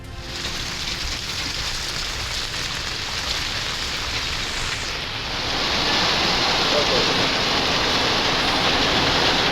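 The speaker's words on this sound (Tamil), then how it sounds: "ராமநாதபுரம் நகர் மற்றும் சுற்றுவட்டார பகுதிகளில் இரவிலிருந்து வெளுத்து வாங்கும் மழை." Heavy rain pours steadily over the town of Ramanathapuram in Tamil Nadu, a dense, constant hiss that swells noticeably louder about halfway through and stays strong to the end.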